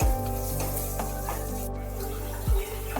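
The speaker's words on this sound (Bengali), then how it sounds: "আমগুলো ভাজাও হয়ে গেছে আর নরমও হয়ে গেছে সাথে একটু লালও হয়েছে" Raw mango pieces fry in a pan, giving a continuous close sizzle with a hum underneath and a couple of brief knocks from stirring.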